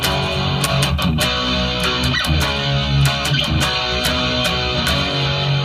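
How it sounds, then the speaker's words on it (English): Electric guitar plays a rhythmic accompaniment with sharp, percussive strummed hits over sustained tones, steady and fairly loud, no voices. "So the guitar accompaniment goes something like this."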